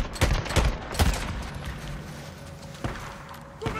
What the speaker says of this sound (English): Let's try out the shotgun for a minute.